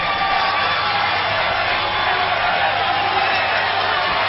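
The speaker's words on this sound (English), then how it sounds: "You can hear the fans really enjoying this final" A stadium crowd at the 2002 World Lacrosse Championship final between the USA and Canada roars in a steady, dense wash of cheering with no breaks, loud and continuous throughout, played on a rainy day.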